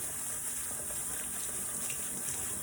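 Hot water runs steadily over tie-dyed fabric in a sink, a continuous close rush with faint splashy variation and no voices.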